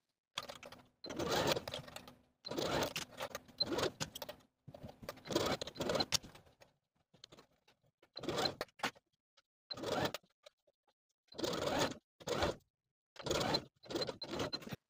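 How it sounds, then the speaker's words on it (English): Sewing machine running slowly around the armhole, stitching a sleeve seam with a 3/8 inch allowance on a knit column dress; several short bursts of stitching separated by pauses, fairly close and moderately loud. "I'm going to take it to the sewing machine and sew all the way around with a 3/8 inch seam allowance"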